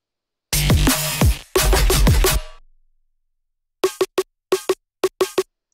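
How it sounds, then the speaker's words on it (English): Several quick snare hits form a tiny stuttering roll in a neurofunk drum and bass track, crisp and close, following a couple of seconds of dense, loud full-mix music. "tiny snare roll used here and there."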